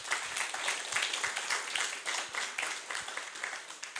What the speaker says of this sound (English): I'd just like us to give a very, very hearty clap to them